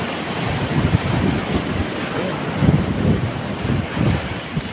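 Strong surf pounding the shore at Boracay, with a steady roar of breaking waves and gusty wind buffeting the microphone throughout, loud and close with no talking.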